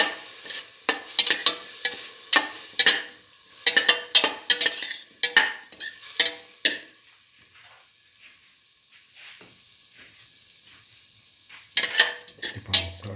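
A spoon stirs beef and split chickpea stew in a pot, giving a run of clinking, scraping strokes against the metal over a faint sizzle. A quieter pause follows before the stirring returns, close up and without talk.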